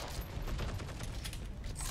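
Rapid gunfire from a World War II shooter video game, Heroes & Generals: a dense, continuous burst of shots blurring into one steady roar for a couple of seconds, heard alone.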